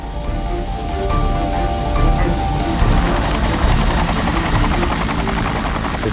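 Military helicopters on a hostage rescue mission, a steady loud rotor thrum and turbine whine sustained throughout, close and unbroken, with no talk.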